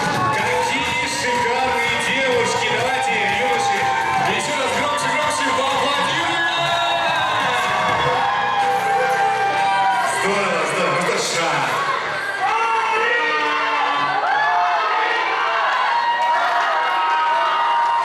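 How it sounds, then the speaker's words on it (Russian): An audience at a university Miss and Mister pageant keeps up loud, sustained cheering and clapping, with shrill shouts and whoops rising over the crowd noise for the full stretch. "Давайте, юноши, еще раз громче поаплодируем!"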